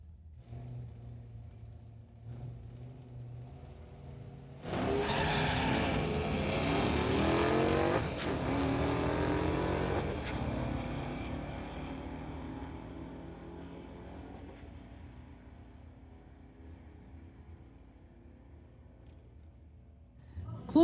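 At a street-legal drag strip, a 1990 Ford and a 2010 Dodge Hemi-powered Challenger launch and roar down the track, a loud surge of engine noise that swells and then fades away over a low background rumble.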